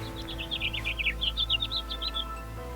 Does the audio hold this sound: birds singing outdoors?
yes